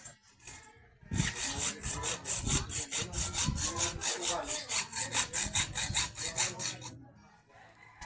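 A hand saw cuts through wood in quick, rhythmic back-and-forth strokes, loud and close, about six seconds of steady sawing before stopping.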